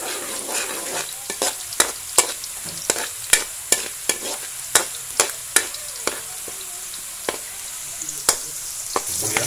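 Garlic frying in a pan sizzles steadily while a utensil stirs and scrapes in a quick series of sharp, close taps, with no talking.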